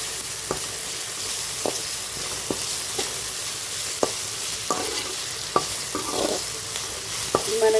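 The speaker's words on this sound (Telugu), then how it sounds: "ఇదైతే పచ్చివాసన పోయే వరకు ఫ్రై చేసుకోవాలి పేస్ట్ని" Ginger-garlic paste ground with cashews, melon seeds and sesame fries with chicken in a pan, a steady sizzle punctuated by regular scraping taps of a spatula stirring through it.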